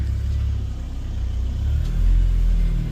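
A 2005 Honda engine running on E85 idles with a low steady rumble close by, the tone rising slightly as it settles, no voices over it.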